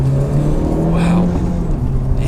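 A 2017 Honda Civic Type-R accelerating on a test drive, heard from inside as a steady, moderately loud engine drone with a rising whir, continuous throughout.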